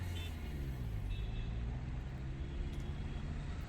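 Cars pass on a road in a scene from the Bollywood film Taare Zameen Par: a steady low traffic rumble and engine drone, fairly faint, with no clear voices.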